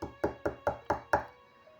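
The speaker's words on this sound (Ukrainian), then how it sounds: "Вовк миттю добіг до бабусиного будиночка і постукав у двері." The wolf in a Little Red Riding Hood story knocks on the grandmother's cottage door: six quick, evenly spaced wooden knocks, close and clear, followed by a short quiet tail.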